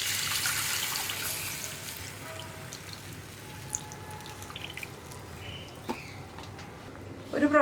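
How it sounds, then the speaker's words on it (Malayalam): Tamarind water poured into a simmering pumpkin and lentil rasam gives a soft, steady liquid splashing with light drips, close by and fairly quiet against a low kitchen background hum. "ഇനി നമുക്ക് ഈ പുളിവെള്ളവും കൂടി ചേർത്ത് കൊടുക്കാം."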